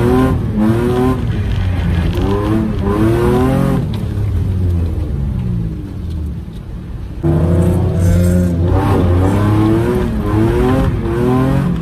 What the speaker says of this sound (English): Because now I'm shredding tires, I'm basically just liquidating my money right now.